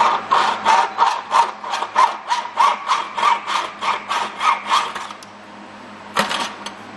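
A door sweep's corner is cut off at an angle with a hand saw, giving about fifteen rhythmic back-and-forth strokes up close. The strokes stop, a quiet pause follows, then a single brief scrape.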